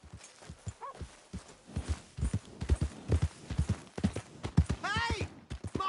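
Horse hooves clip-clopping in Red Dead Redemption II, a rapid run of sharp close hoof strikes under game dialogue, with a whinny-like call near the end.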